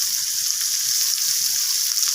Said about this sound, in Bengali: তো সমস্ত কিছু মশলাকে আলু পেঁপের সাথে এইভাবে নাড়াচাড়া করে কষিয়ে নেব।